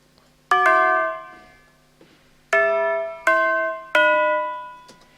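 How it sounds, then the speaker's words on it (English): Four struck steel tubular bell tones ring out clearly, each with a sharp attack and a long, slowly fading shimmer, spaced a second or so apart with quiet gaps between. "the tubular bell"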